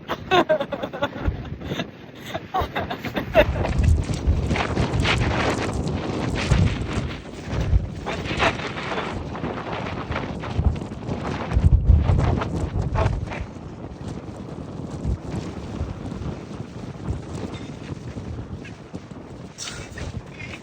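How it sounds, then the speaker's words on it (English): Strong wind in Lüderitz, Namibia, buffets the microphone in constant gusty rumbles, loud and unbroken for the whole stretch. "It's very windy here."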